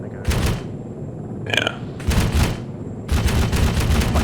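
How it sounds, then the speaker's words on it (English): Heavy booming bursts of cannon fire in a war video game, three loud sustained blasts with rumbling tails and a short pause between them, and a brief voice in one gap. "I'm gonna give the cannon a go."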